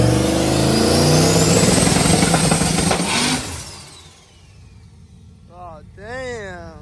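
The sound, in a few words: truck engine revving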